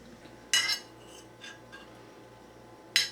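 Heinz ketchup chili con carne from a 1954 recipe being spooned onto a plate with utensils: a few sharp metal clinks, one bright burst early, a softer tap mid-way and another clink at the end, over a quiet room.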